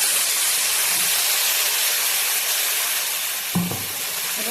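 Spice paste of onion, tomato, green chilli, mustard paste, chilli powder, turmeric and salt poured onto frying onions in a pan, a steady close hiss of sizzling oil with a brief louder splash near the end.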